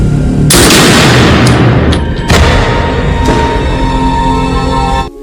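Loud, close gunshots from a John Wick film scene crack out, a heavy burst followed by further sharp reports and echoing thuds over a sustained cinematic backdrop.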